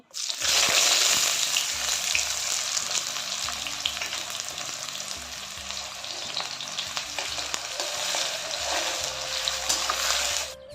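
Potatoes frying in a pan give a continuous bright sizzle that holds steady throughout, with soft stirring scrapes mixed in, close and fairly loud with no talking.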